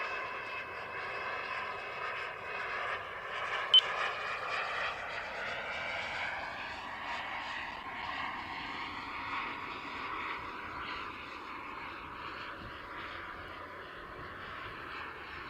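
A BVM T33 model jet aircraft flies in to land with full flaps, its steady engine whine holding for the whole stretch and rising slightly in pitch as it nears, constant and moderately loud.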